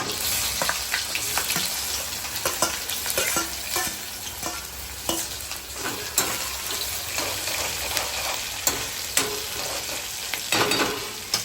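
Garlic and onion fry in hot oil with cumin seeds, giving a dense, close sizzle broken by frequent sharp scrapes and knocks of a spoon stirring in the pan, with no voices.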